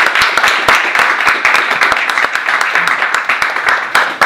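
Audience applauding for a DJ and producer at a Harvard Q&A, a steady wash of dense clapping with sharp individual claps standing out throughout.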